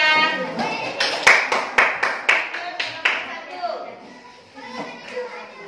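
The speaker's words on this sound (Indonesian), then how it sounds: "Tepuk tangan untuk kelompok 2." Children in a classroom clap for a student group in a quick, rhythmic burst of about eight sharp claps, then the clapping trails off as young voices chatter in the background.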